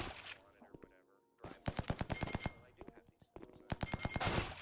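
Rapid AK rifle bursts in the Krunker shooter game, sharp repeated cracks in quick volleys with short gaps between bursts, loud and close.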